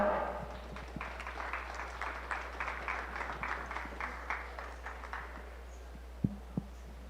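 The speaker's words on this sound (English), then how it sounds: "a round of applause for this set of exhibitors" A crowd claps steadily in a dense patter of applause at a 4-H provincial beef cattle show, moderately distant, fading out near the end with a couple of sharp knocks.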